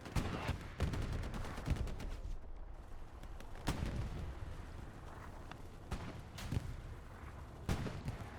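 Gunfire and heavy impacts ring out in a Hell Let Loose battle as a shot strikes a Sherman tank, with several sharp, loud cracks spread across the stretch over a steady rumble of combat.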